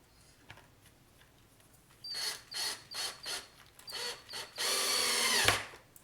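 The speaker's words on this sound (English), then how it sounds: "I will just start screwing in the hanger that we're going to attach the wire to." A hanger is screwed into the wooden frame of a gallery-wrap canvas with a power driver, giving several short, close whirring bursts followed by one longer sustained run that winds down.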